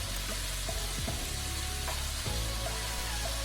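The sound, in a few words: stirring chicken breast with soy sauce in pan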